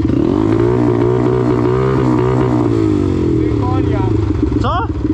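Quad bike engine idling unevenly with a small intermittent misfire, likely a carburetor or ignition fault, loud and close with a steady low throb over the whole clip and a brief higher rev near the end.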